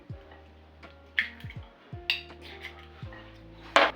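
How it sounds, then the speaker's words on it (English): An egg tapped against a bowl in a home kitchen, a few soft close knocks followed by a sharper crack and light clink near the end, otherwise quiet. "So I break the egg"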